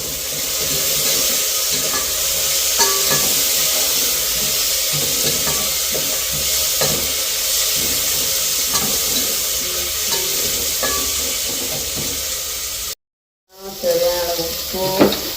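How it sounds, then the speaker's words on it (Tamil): Curry leaves sizzle and crackle in hot oil, with a spoon scraping and stirring through the pan; a brief silent gap interrupts the frying near the end. "இப்போ இதுக்கே போட்டு வதக்கப்போம்"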